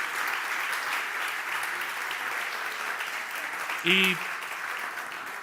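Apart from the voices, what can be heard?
audience applause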